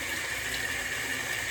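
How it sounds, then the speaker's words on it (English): Hot tap water runs steadily into a sink for cleaning milking equipment, a constant faint hiss and splash with no change in level and no voices. "hot tap water."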